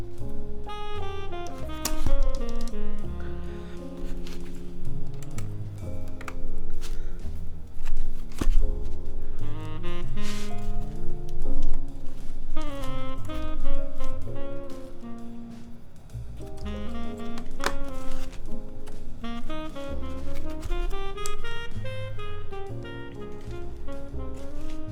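The keys of a TKL mechanical keyboard being built clack in rapid, uneven bursts of deep, close taps that continue throughout the clip with no talking.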